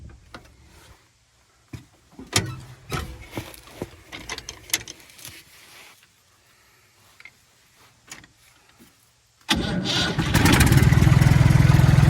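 A vehicle engine newly arrived from the Netherlands fires up on a cold day, with scattered cranking clatter and knocks before it catches and settles into a loud, steady running roar.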